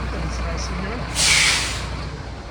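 An old bus in Guadalajara releases a sharp burst of air brake hiss about a second in. The hiss lasts roughly half a second and rises over a low idling rumble, with a voice faintly present earlier.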